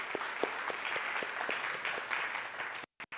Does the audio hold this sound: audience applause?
yes